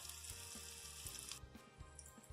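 Food sautéing in oil in a pan for a Ukrainian dish gives a steady close sizzle and crackle with soft pops throughout, no voices.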